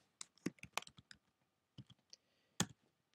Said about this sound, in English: So I'm going to just type in Mikey.